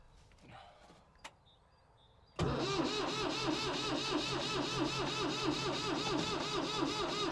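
An abandoned Ford 3000 tractor is cranked after a short quiet stretch with a few faint clanks, then its engine catches and settles into a loud, steady, rhythmic running chug that continues to the end.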